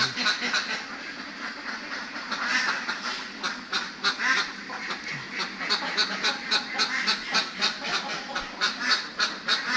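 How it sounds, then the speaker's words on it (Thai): Many ducks on a farm quack in a dense, overlapping chorus, steady and fairly close, with no talking. "นุ่นจ้ะน้องเป็ดออกไปเล่น"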